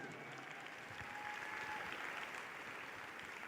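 A crowd applauds teens at a dance scholarship event, a faint, distant and steady wash of clapping that continues evenly without a clear start or end.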